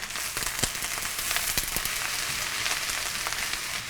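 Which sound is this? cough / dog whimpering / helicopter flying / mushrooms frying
mushrooms frying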